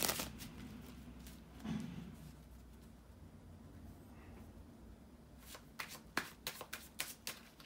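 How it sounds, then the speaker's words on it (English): Tarot cards are shuffled close and quiet, with soft riffling and handling at first, then a series of crisp taps and snaps near the end, and no talking. "bear with me a second, guys, to shuffle the cards"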